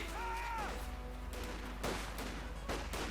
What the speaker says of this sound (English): riflemen engaging the Grenadiers